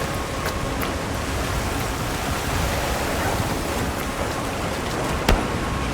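A heavy rain downpour in the video game Monster Hunter Wilds makes a steady, dense hiss that stays even throughout, with no voices over it.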